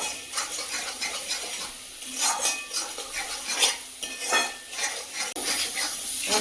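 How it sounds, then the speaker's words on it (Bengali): Spice paste for a koi fish curry being stirred and sautéed in a pan, with repeated scraping clinks of a spoon against metal over a soft sizzle. "ভালো করে কষিয়ে নেবো মশলাটা"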